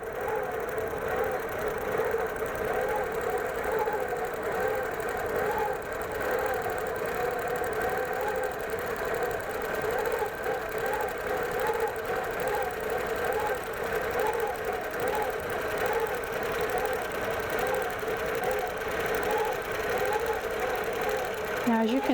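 A sewing machine stitches raw edge appliqué on a quilt with the quilt glide feature engaged, a fast continuous mechanical whir and chatter up close, while someone talks over it.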